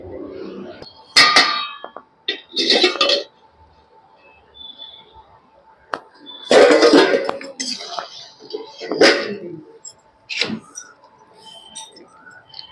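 Shyama rice and chopped vegetables tipped into a pot of partly boiled dal, giving a few separate clattering pours and clinks of grains and pieces hitting metal, close and fairly loud, with quiet gaps between.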